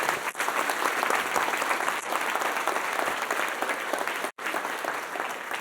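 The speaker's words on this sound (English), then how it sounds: "how about a round of applause for her amazing work?" Broad, steady applause fills a university State of the University address hall, loud and continuous, with a couple of brief dips before the clapping resumes.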